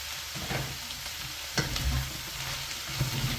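Beans hit a hot frying pan while pancit is being cooked, giving a steady, fairly quiet sizzle with a few soft clatters of stirring and utensil knocks scattered through it.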